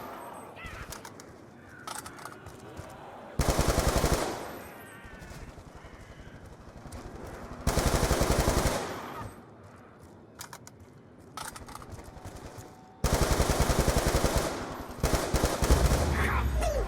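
Bursts of machine gun fire from Call of Duty Black Ops 2 Zombies gameplay: three loud sustained volleys, each lasting about a second, with quieter game noise and clatter between them.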